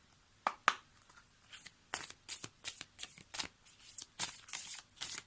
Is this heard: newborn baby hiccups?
no